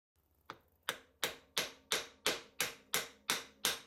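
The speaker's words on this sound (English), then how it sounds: "lots of very small taps with a hammer against a piece of brass bar" A small hammer taps a brass bar nine times in a steady, even rhythm while freeing a model steam engine part, each sharp ringing strike decaying quickly before the next.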